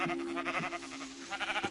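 Sheep bleat in a video game, a few short, nasal, wavering calls that rise and fall at moderate loudness over a soft background.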